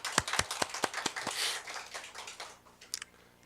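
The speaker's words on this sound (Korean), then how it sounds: "한번 하나님께 영광의 박수를 드리겠습니다." A church congregation claps during a Sunday morning worship service: a handful of sharp, distinct claps in quick succession at first, then a softer blur of clapping that fades away. The clapping is faint overall.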